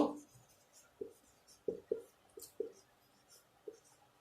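Pen or pencil writing out the answer to a class five math problem, quiet scratchy strokes in short irregular bursts, close by with no talking.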